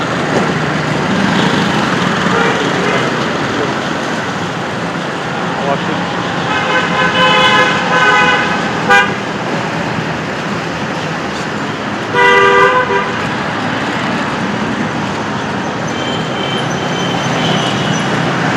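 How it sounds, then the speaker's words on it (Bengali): Traffic rumbles steadily along a busy main road near a school, with a couple of short car horn toots cutting through the constant close wash of engine and road noise. "এটা বড় রাস্তা"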